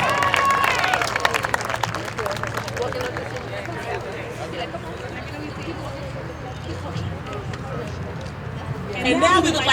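Graduation crowd at a high school ceremony applauding and cheering, a sustained wash of clapping with scattered shouts that fills the hall, swelling again near the end while voices carry over it.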